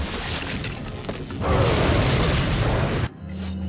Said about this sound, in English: Fire grenade.